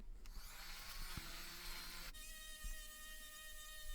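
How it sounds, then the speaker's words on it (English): A random orbital sander with 80 grit works over pallet wood, a steady whirring buzz with a shift in pitch partway through, faint and continuous. "I started off with an 80 grit on the random orbital sander"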